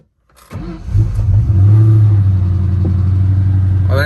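A Kenne Bell Cobra, struggling with a bad fuel filter, cranks briefly after a moment of silence, then catches and settles into a loud, steady close-up rumble that holds to the end.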